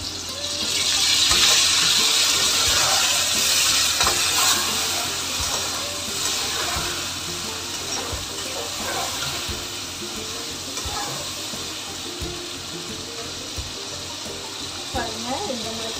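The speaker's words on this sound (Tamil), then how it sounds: "கொஞ்சம் நிறையாவே ஊற்றிக்கணும் புளி தண்ணி" Tamarind water poured generously into a cooking pot for an oil-brinjal biryani side dish, a steady liquid rush and splash that holds loud near the start, then settles into a softer continuous flow with small clinks.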